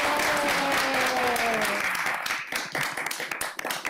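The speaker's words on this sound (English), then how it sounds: "Let's give them all a round of applause" At a city council meeting, a room claps for participants who did a great job. The applause is lively and fairly close, with a voice speaking over its first half, then thinning to scattered claps.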